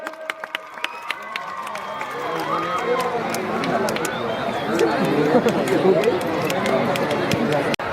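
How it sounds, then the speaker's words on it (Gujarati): Applause from a crowd at a community mass wedding ceremony, a broad sustained patter of many hands building and continuing over busy chatter and background voices. "આપણે તાળીઓના ગડગડાટથી અમીરભાઈના સન્માનને વધાવીએ"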